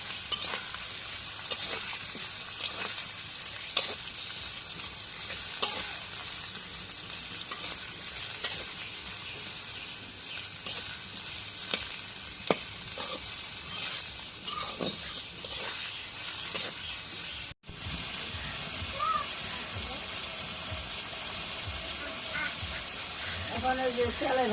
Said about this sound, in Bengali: পেঁয়াজ তেলের মধ্যে দিই পেঁয়াজ দিলে নাড়া দিই